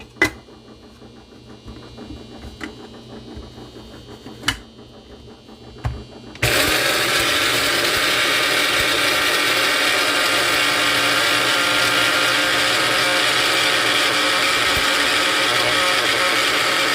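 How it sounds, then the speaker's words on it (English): Electric grinder whirring loudly and steadily as it pulverizes dehydrated eggshells, starting abruptly after a few quiet clicks and handling noises, then running continuously without pause. "pour this egg shells that I dehydrated earlier while we were canning into this grinder"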